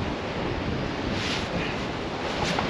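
Strong wind roars steadily across a beach, buffeting the microphone with constant low rumble alongside a surf wash, with no pauses or voices through the short stretch.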